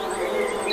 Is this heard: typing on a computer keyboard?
no